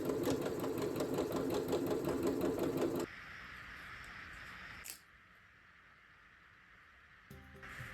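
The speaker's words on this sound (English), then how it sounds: "now that the first sleeve is together in the sections, I am going to do a rolled hem on the edge" A sewing machine stitches a rolled hem on the sleeve edge of a Renaissance jester costume, running at a fast, even, close clatter for about three seconds before stopping, leaving quiet room noise.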